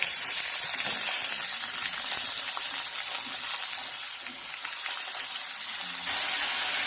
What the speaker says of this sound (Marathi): तर आपल्याला हे कांदा टोमॅटो आणि हिरवी मिरची मऊ होईपर्यंत आपल्याला हे फ्राय करून घ्यायचे आहेत